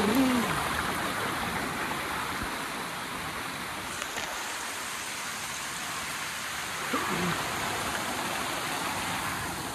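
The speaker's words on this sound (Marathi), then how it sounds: "वॉटरफॉल आलाय जवळ." A waterfall pours nearby as a loud, steady broadband rush that fills the whole stretch, with faint voices briefly audible underneath.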